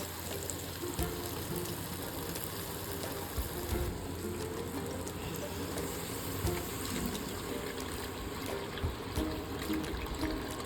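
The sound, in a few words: hot water poured into sabudana ragda pan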